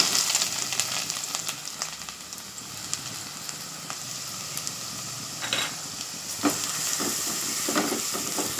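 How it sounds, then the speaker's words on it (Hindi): Carrots dropped into hot oil for a chicken samosa filling, a loud continuous sizzle with scraping stir strokes and clinks of a spoon throughout, no talk. "मैं गरम जो तेल हुआ है उसमें गाजर डालती हूँ।"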